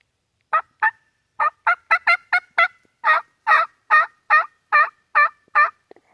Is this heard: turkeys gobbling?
yes